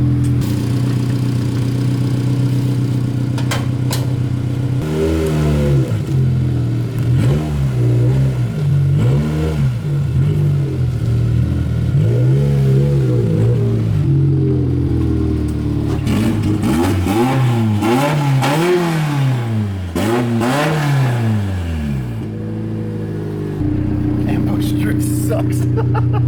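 A turbocharged Scion FR-S, pulled out after months in a garage, idles and then revs repeatedly in rising and falling bursts, loud and close, with voices speaking over parts of it.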